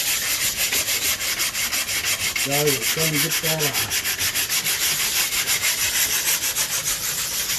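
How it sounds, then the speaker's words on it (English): Sandpaper rubs back and forth in a steady rhythm over a wooden wild rice knocker, smoothing its rough edges at close range; a voice speaks briefly partway through. "All you're doing is sanding it down and sanding the rough edges down"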